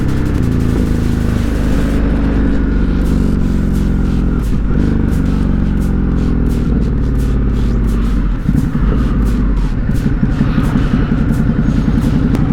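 A Ducati Hypermotard 950 RVE motorcycle ridden toward the city, its engine a loud, constant rumble beneath heavy wind roar, with pitch shifts as it slows and pulls away.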